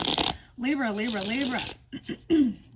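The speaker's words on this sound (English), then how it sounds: "Let me give this a good shuffle." Tarot cards are shuffled briefly at the start, a short papery riffle, before someone talks over the rest.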